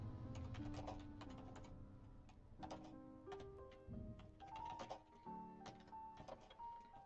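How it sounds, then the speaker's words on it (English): Computer keyboard typing, with clusters of quick clicks separated by short pauses, close and clear beside faint tones in the background. "See how horrible I am at typing."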